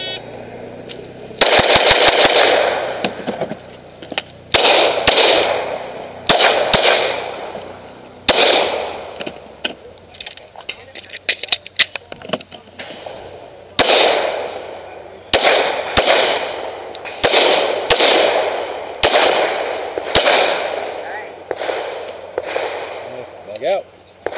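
Pistol shots crack out during an IDPA shooting stage at an outdoor range, coming in loud, sharp strings of rapid fire separated by short pauses, with a few lone shots between them.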